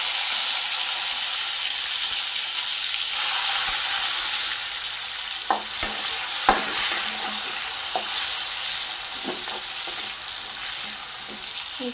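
Tomatoes drop into hot oil with reddened garlic for a fish curry tempering, setting off a loud hissing sizzle that holds steady, followed by a few sharp clinks and stirring sounds up close.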